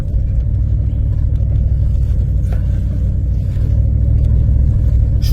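A car's engine rumbles steadily and loudly as it drives and maneuvers through heavy snow near a country vineyard house, a constant low drone with no speech.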